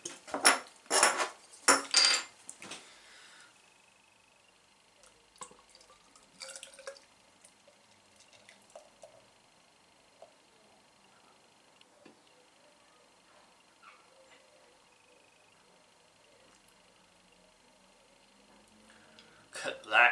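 A Treason West Coast IPA opened and poured, with a few sharp bursts at the start, then a quiet, sparse trickle and clink before a final cluster of louder knocks.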